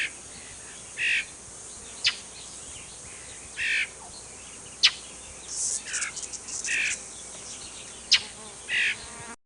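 A mockingbird gives short, sharp chip notes and buzzy murr calls, scattered in separate bursts over several seconds against a faint background hum, alone and moderately close.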